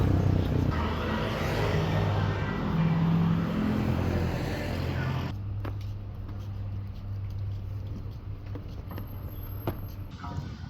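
Dense road traffic in Ayutthaya, Thailand, gives a continuous close engine rumble and passing vehicle noise that shifts midway to a quieter steady hum with occasional clicks.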